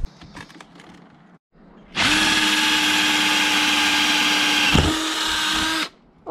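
A power drill fitted with titanium drill bits bores into a nickel copper casting, running loud and steady for about four seconds with a brief dip near the end, after some faint handling noise beforehand.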